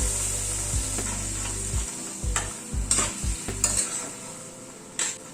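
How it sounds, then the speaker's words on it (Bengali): Chicken and lentils are stirred in a pan with a few distinct scraping strokes and a soft sizzle, close and fairly quiet, with a low hum cutting in and out beneath it. "আবার মিনিট 2 মতো একটু নাড়াচাড়া করে নিলাম।"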